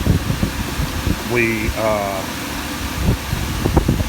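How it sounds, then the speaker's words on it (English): A salvaged home HVAC blower fan blows air with a strong, steady whooshing roar close by, while a person talks over it. "this thing's blowing like forceful wind"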